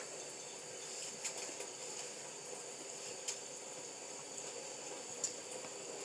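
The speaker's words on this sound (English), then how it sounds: "I'm going to rinse these pieces off, make sure ain't no seeds on here." Cold tap water runs over food pieces in a home kitchen, a soft, steady hissing stream with a few small splashes, faint and continuous with no talk.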